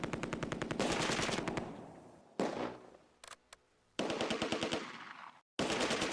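Machine gun bursts in the Close Combat A Bridge Too Far war game, rapid repeated rattling volleys broken by short pauses and a few isolated shots, loud and close with no talking.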